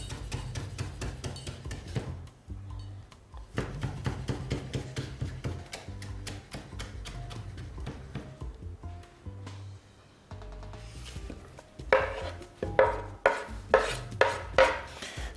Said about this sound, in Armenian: և ծովիկների կտրատում